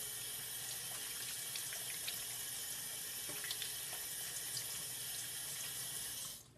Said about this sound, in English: one of the most important things before you start cooking is to wash your hands